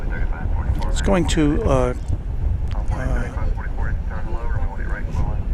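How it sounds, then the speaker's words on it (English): A Boeing 767 jet lines up on a runway at night at DFW Airport with a steady roar of engine and wind noise, while someone talks over it close to the microphone. "So it's a 767. Cross 18 right at Yankee and line up and wait for runway 300 ER."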